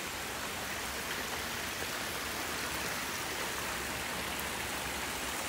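Water from a pondless waterfall in a backyard Atlanta garden splashes in a continuous, even rush, close and steady with no talking.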